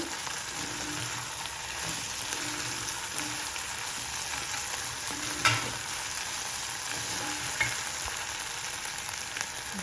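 Sprouted beans and green peas fry in oil with a constant crackling sizzle, marked by a few soft stirring bumps and one or two sharper clinks.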